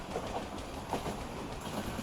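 A slow passenger express on the Bengaluru–Mumbai line rolls past, producing a continuous rumbling rush of wheels on rails with faint rhythmic clacks, heard alone and fairly close.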